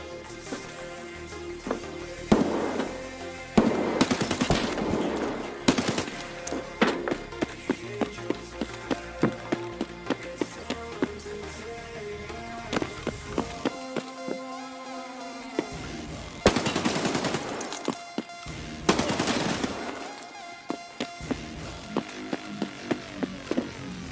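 Gunfire in a video game, scattered single shots and short bursts with tapping footsteps, moderately loud, interrupted by a few louder bursts and quieter gaps.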